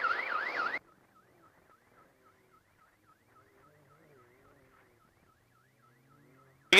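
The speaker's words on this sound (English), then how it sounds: "You can turn the alarm off now." A UTV's warbling electronic alarm during a highland off-road race, a loud rising-and-falling siren tone at first, then continuing faint and steady in the background for several seconds before a loud burst at the end.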